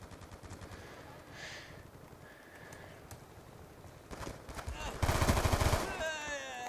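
Gunfire in Call of Duty Black Ops 2 multiplayer, rapid automatic bursts building to a loud, dense volley near the end.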